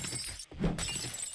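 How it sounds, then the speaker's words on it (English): Glass shatters in 7 Days To Die, a single short crash with a brief burst of breaking noise amid steady game ambience, no talking. "I just like hearing the glass breaking, if I'm being honest"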